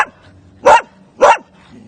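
A dog at a dog rescue barks twice, loud and close, with evenly spaced sharp barks and quiet between them.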